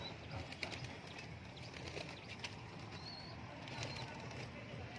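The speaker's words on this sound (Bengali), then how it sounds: "সব পায়রা বেরোচ্ছে দেখো" Pigeons burst out of a loft, including black jacks and biscuit-coloured birds, their wings flapping in quick irregular clatters over a faint, quiet background with some soft voices.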